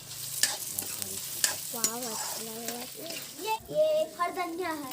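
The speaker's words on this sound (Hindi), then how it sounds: "तेल गरम हो गए तब ओमा मेथी के फोरन दे देबो और फोरन ला अच्छा से भूंज लेबो।" Fenugreek seeds tempering and roasting in hot oil, a soft steady sizzle with stirring, partly under voices talking nearby.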